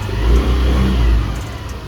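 An Access 125 scooter engine revs up under the throttle, a loud, close and steady mid-pitched drone that swells and eases over about two seconds.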